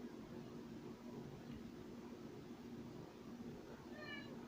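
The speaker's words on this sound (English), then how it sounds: "Yeah, I know, you're a cat." A house cat gives one brief, faint meow near the end over a steady low hum, with the room otherwise quiet.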